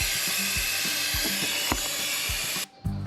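Vacuum filler pulling a steady vacuum on the cooling system of an electric Volvo V50, a continuous loud hiss with faint clicking underneath that briefly drops out near the end, then resumes.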